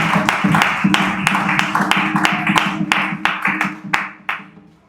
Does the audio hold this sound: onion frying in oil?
no